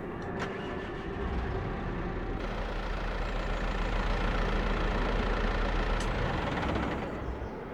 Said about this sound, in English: It's obviously a quiet tractor.